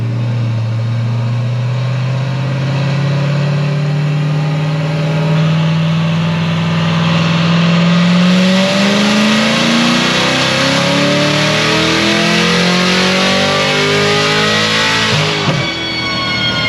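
Supercharged Chevrolet Corvette C7 Z06 with a Magnuson blower revs loudly and steadily, its pitch climbing through a long sustained pull before dropping off sharply near the end, up close with no talk.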